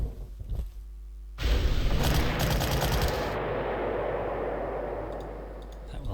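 Artillery fire and gunfire erupt in the Panzer Corps strategy game: a loud, sustained barrage of booming blasts and crackling shots that fills the mix and then slowly fades to a lingering rumble.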